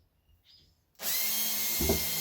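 Power drill driving screws into plywood while repairing a split coffee table, a sharp whirring burst that starts abruptly after a quiet moment and runs steadily and close, alone without talk.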